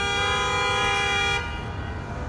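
A car horn blares in a long, steady toot over street traffic noise, then cuts off, leaving the rumble of passing vehicles.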